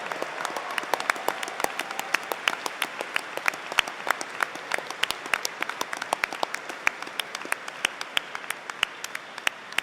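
A graduation ceremony audience gives a round of applause for university staff: loud, continuous clapping from a large crowd, crisp individual claps standing out throughout.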